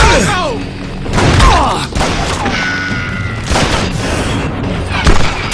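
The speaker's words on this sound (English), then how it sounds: "We're under fire!" Gunfire and booming impacts in the Western shooter game Call of Juarez Gunslinger, with loud shots and crashes throughout, mixed with music and effects and voices calling out in the game.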